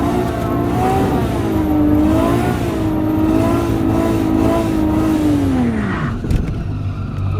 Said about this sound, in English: Yeah, that's second gear skid.